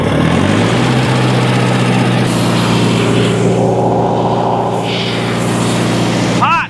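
Engine of an old Lindsay air compressor with a carburetor that will not idle, running loud and close with a steady low drone after it revs up, before cutting out at the end.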